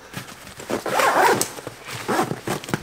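A zipper being drawn closed on a Vanquest Skycap-46 duffel backpack, a near, rasping run that rises to a loud stretch in the middle and then comes in shorter pulls, with no talk.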